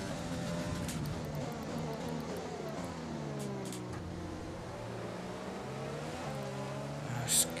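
Formula 1 race car engine in F1 2020 at the Australian Grand Prix, a steady high-revving whine with rising and falling pitch through gear changes, continuous and fairly close, with a brief louder burst near the end.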